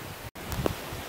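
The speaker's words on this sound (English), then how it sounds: "Kind of a windy day today again" Wind blowing outdoors on a blustery fall day beside a lot of fiberglass campers, a steady broadband rush with a brief dropout and a short gust-like swell near the middle, no voices.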